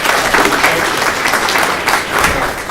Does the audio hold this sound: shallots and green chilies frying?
no